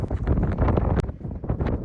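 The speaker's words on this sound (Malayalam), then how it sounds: "അറ്റ്ലാന്റിക് ഓഷ്യനിൽ നിന്ന് നല്ല ശക്തമായ കാറ്റടിക്കുന്നുണ്ടായിരുന്നു" Strong Atlantic wind gusting across the coast near South Stack Lighthouse in North Wales, a loud continuous roar that buffets the microphone, with a sharp gust burst in the middle.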